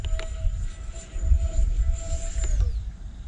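An E-flite A-10 RC jet with twin 64mm ducted fans flies past, a loud steady whine that holds its pitch and then drops away as it passes, over rough wind noise.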